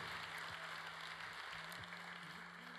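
A crowd at a fan club day in Nijkerk applauds its volunteers, faint continuous clapping heard at a distance, with a low steady hum underneath.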